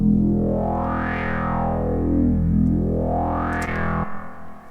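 A distorted Behringer K2 mk2 synthesizer tone sweeps up and down in pitch, washed in lush chorus and Valhalla reverb, then cuts off with a short reverberant tail.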